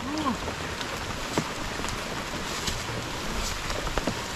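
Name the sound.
rain falling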